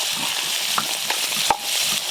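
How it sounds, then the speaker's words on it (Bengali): Vegetables sizzle steadily in hot oil alongside fried paneer, a close, continuous frying hiss with a few sharp clinks and scrapes of stirring. "এবার সব সবজিগুলো ভালো করে ভেজে নেব"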